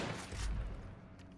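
Gunfire rings out in the video game Far Cry 5 as a short, muffled burst of shots, then a boomy tail that fades within about a second.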